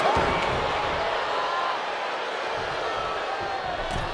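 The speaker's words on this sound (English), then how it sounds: "The sound of this crowd is deafening, and he's asking for more." A wrestling arena crowd in the video game WWE 2K22 roars steadily, a dense, loud wash of cheering and noise holding without a break throughout.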